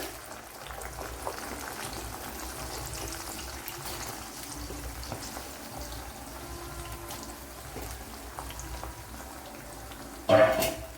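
Jackfruit chips deep-frying in hot oil in a Kerala-style home kitchen give a steady, close bubbling hiss for several seconds, with a brief louder clatter near the end.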